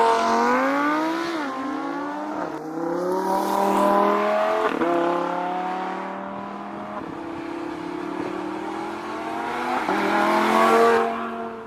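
A Lamborghini Huracan Spyder convertible's engine revs and pulls through rising gear sweeps with sharp shift drops, loud and close throughout, its tone climbing again near the end with no talking.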